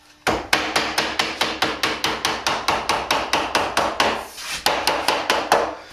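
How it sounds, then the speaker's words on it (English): A hard rubber mallet strikes metal flashing in a steady, even rhythm, bending its edge toward 90 degrees, over twenty close, sharp blows with a brief pause partway through. "I'm using a hard rubber mallet to try to bring that edge up to about 90 degrees"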